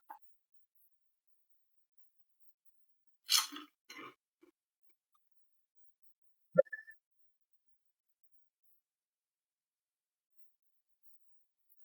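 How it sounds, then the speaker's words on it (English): Crunchy bites into a burnt keto waffle, a brief cluster of chewing and crunching close up, then a short sharp crunch a few seconds later, with long quiet gaps and no talking. "I'm going to taste the burnt one."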